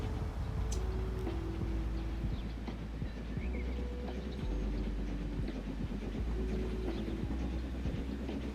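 Trains roll through a busy Great Britain rail network in the game Transport Fever 2, a steady low rumble with rhythmic clicking of wheels over track joints and faint horn-like tones, continuous and moderately quiet.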